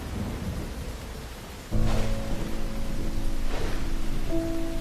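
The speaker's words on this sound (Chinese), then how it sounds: "忽然间乌云遮雨，天空下起大雨" Steady heavy rain hisses throughout, joined partway by a sudden deep rumble of thunder that swells and lingers under the downpour.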